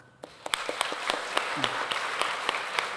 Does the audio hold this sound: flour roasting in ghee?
no